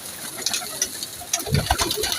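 Soft coos from breeder pigeons and scattered bird calls come in short bursts over light background noise, nearby and fairly quiet.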